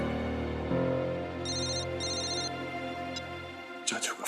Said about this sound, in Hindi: चाचू का फोन